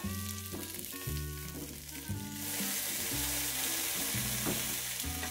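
A double McDonald's teriyaki burger pressed in a hot sandwich maker sizzles and crackles steadily and loudly at close range, with a dense frying hiss rising partway through over a low repeating background tone.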